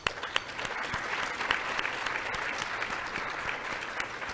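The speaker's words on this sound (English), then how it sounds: "So a round of applause." Steady applause from a dinner audience at a leadership banquet, dense continuous clapping throughout with no talk over it.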